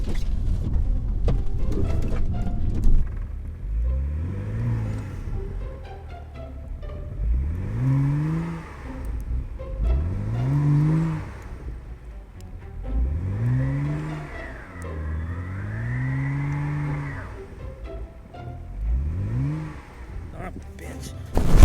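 A Subaru WRX repeatedly revs its engine while pushing through deep snow, rising and falling whines surging about every two to three seconds, with wheel spin and a person talking over it.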